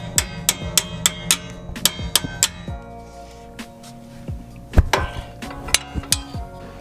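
Metal hammer strikes on a car brake rotor during a Nissan Maxima brake job, a series of sharp ringing clanks in quick bursts, close and loud, with a pause before a few heavier blows.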